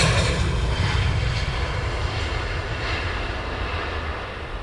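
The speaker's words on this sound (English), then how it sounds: "We do have a DHL on the pushback." A DHL cargo aircraft on pushback at Luton Airport, its engines giving a loud, steady broadband roar with a low rumble that holds throughout, heard alone without talk.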